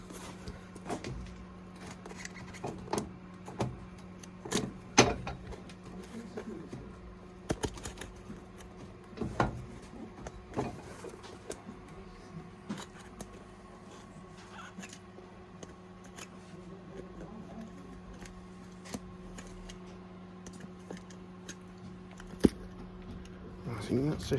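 Stitching being cut off the sole of a Timberland boot during a commando resole: small irregular snips and clicks, close and quiet, with someone talking over much of it.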